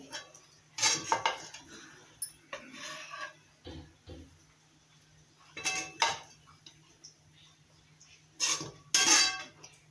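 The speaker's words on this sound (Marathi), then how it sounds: "तर हा उपीट मी या डिशमध्ये काढून घेते।" Rava upma being scraped from a pan into a dish, heard as bursts of metal spoon scraping and clanking against the pan, close and fairly loud, with quiet pauses between them.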